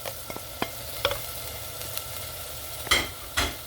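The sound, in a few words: stirring turmeric, chili and coriander powder into lentils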